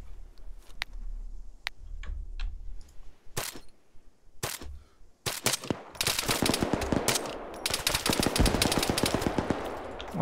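Gunfire from the video game Arma 3: sparse single shots crack at first, then rapid bursts of automatic fire grow denser and louder toward the end, with no talking over them.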